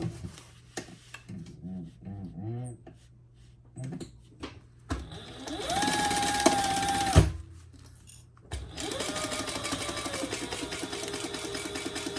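A sewing machine stitches the outer piece of a tulip pouch in two loud runs, each a steady whirring hum with rapid needle ticking, separated by a quiet pause with faint handling clicks.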